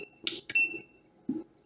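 A GoLabs R300 portable power station emits short electronic beeps as its two buttons are held down together, a few brief tones spaced apart, close and clear with faint background in between.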